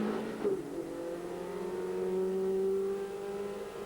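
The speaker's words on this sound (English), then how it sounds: "similar car, and he goes past the number 33 944 of Jason Saunders" Racing cars in British motorsport, 1997, driving past on track, their engine note rising and holding steady, moderately distant with no talk over it.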